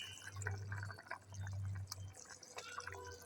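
Pabda fish are slipped into a boiling, spicy homemade curry broth, producing wet plops and soft liquid bubbling close by, with a low steady simmer underneath and brief splashy drips.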